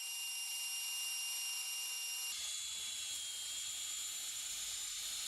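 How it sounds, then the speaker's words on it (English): A Proxxon RBS/A cordless tube belt sander runs with a steady, high, motorised whine that shifts slightly in pitch partway through and then holds constant, close and alone. "The cordless tube belt sander RBS-A is the right tool for a multitude of applications."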